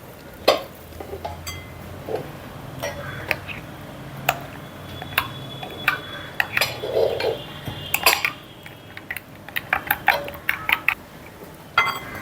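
Whisk or spoon clinks and scrapes against a bowl as a little water is stirred into an egg mixture for steamed eggs, irregular light taps and clatters at close range with no talk.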